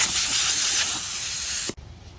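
Compressed air blasts steadily across a custom-painted metalflake Harley-Davidson motorcycle panel during dent repair, a loud close hiss that runs about 1.7 seconds, then cuts off abruptly into near silence.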